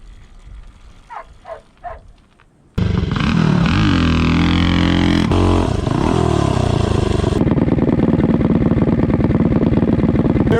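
Tillotson 225 mini bike engine fitted with a Volts 330 cam, starting after a brief quiet lead-in, then roaring loudly at high revs, its pitch rising and falling as it accelerates and shifts, continuous and close.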